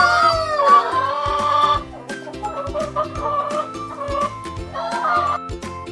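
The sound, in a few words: chicken clucking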